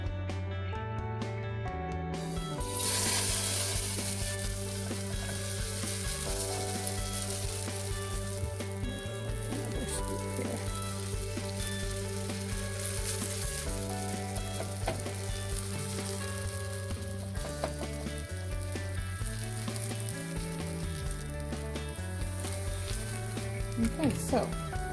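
Kimchi pancake (kimchijeon) fries in canola or vegetable oil in a pan, a dense, steady sizzle that starts abruptly and holds loud and continuous, with a voice speaking over it.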